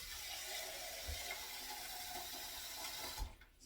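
Water is poured into a soup pot of tomatoes and vegetables, a quiet steady splashing trickle that stops near the end.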